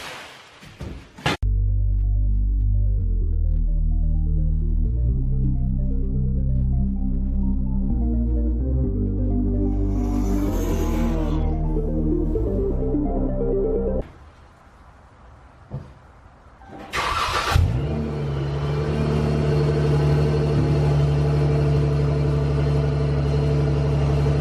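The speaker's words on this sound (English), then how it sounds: "Let's see what the cold start on the original setup sounds like in my little garage" A car's engine on its original exhaust setup, in a small garage ahead of a Ripp supercharger exhaust swap. It cranks and fires on a cold start, then settles into a steady, close, rumbling idle with a short revving burst and a drop in level partway through.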